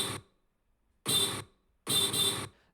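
Vehicle horn on a suburban street sounding in three loud, bright blasts: one short honk, a pause, another honk, then a longer double blast.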